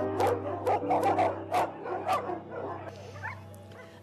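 Several dogs bark and yip in quick bursts from a truck arriving at a slaughterhouse, close and agitated over a low steady hum, fading to softer whimpers toward the end.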